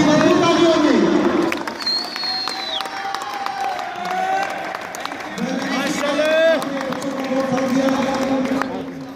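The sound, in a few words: audience applause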